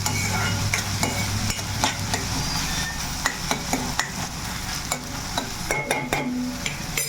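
Onions fry in a hot pan with a steady loud sizzle, while a spoon scrapes and stirs them in repeated clinks and scrapes, close up and with no talking.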